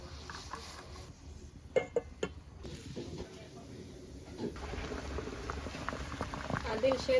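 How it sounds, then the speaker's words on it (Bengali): Water boils in a pot for steaming eggs, a low bubbling simmer with a few sharp clinks and knocks partway through. A voice talks over it. "এখন গরম পানির মধ্যে ভাপ দিয়ে লম"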